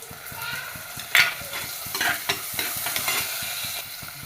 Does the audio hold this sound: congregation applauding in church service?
no